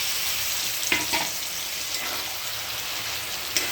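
Boiled mutton sautéed in oily masala in a pan, a dense continuous sizzle with a couple of brief stirring scrapes, close and even throughout, no voices.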